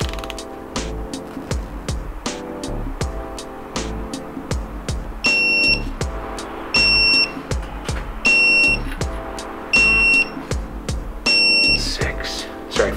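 A digital torque wrench tightening the bolts of a built Mazdaspeed 3 engine to 35 foot-pounds gives five evenly spaced electronic beeps, each cutting in over the steady clicking and ratcheting of the tool.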